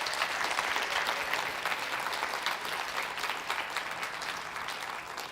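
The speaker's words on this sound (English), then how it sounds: "Please join me in a round of applause for all those who made today possible." Theater audience applauding at the close of a TEDx event, a dense, steady wash of many hands clapping from a large crowd, fairly distant and even throughout with no voices standing out.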